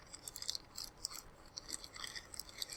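Several small, crisp snips and clicks of scissors cutting a plastic loop close to the mic in an irregular rhythm, fairly quiet and with no speech.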